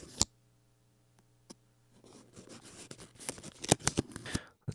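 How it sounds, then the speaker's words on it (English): Paper is rubbed and scraped against a credit card as a foley experiment for horror sounds. A couple of sharp isolated clicks give way to a close, uneven stream of scratchy rustles and snaps, fairly quiet overall. "This is a paper on credit card."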